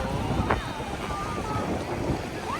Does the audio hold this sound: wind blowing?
yes